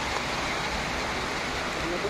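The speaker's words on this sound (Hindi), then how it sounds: "चारों तरफ झिमझिम झिमझिम बारिश हो रही है ये देखिए बारिश हो रहा है अभी" Light rain falls outdoors as a steady, dense hiss of drops, close and even throughout with no pauses.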